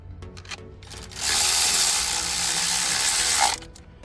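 A ratchet works on the inverted Torx bolts of a Mercedes camshaft position sensor, giving a few light clicks and then a loud, steady rapid ratcheting run of about two seconds that stops abruptly, close by.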